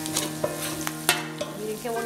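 Onion frying in a pan for Chihuahua-style discada gives a steady close sizzle, broken by a few sharp scrapes and clanks as it is stirred.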